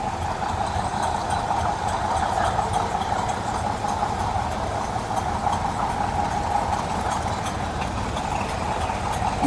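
A Caterpillar D6 crawler tractor engine runs at a steady, unbroken drone. The heavy, rumbling tone holds constant and fairly loud throughout, with no voices.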